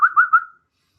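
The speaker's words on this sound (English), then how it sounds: "I want to whistle at my microphone like it's a dog." A person whistles at a microphone as if calling a dog: three quick, close, bright whistle notes in a rising-falling pattern, then silence.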